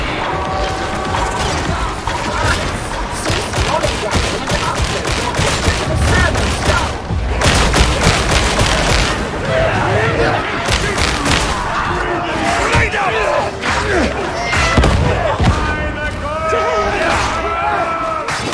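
Gunfire and clanking weapon mechanisms in Warhammer 40,000: Darktide, loud, busy bursts of shots with ratcheting metallic sounds throughout, a voice speaking over the combat.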